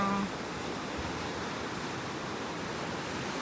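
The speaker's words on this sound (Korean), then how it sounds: "주변 음 허용으로 해가지고 바닷 소리랑 음악 소리 같이 듣고 있거든요." Sea waves on the Busan coast, heard from a seaside walking path as a steady, fairly faint wash of surf noise with no distinct breaks and no voices.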